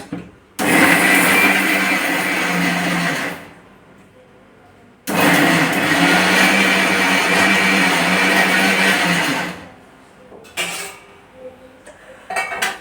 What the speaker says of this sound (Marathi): हे छान असं बारीक करून घेणार आहोत मिक्सरला